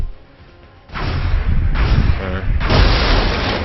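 Loud, close bursts of gunfire in an XCOM strategy game strike a soldier, arriving as heavy booming volleys with a rumbling, explosive tail after a brief quiet start.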